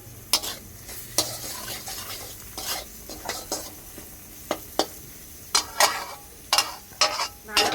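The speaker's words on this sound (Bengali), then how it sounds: "ভালোভাবে কষিয়ে নেব।" Kashmiri chilli powder masala sautéed in a pan, a low sizzle under repeated sharp scrapes and clacks of a spatula stirring at an uneven pace, close by.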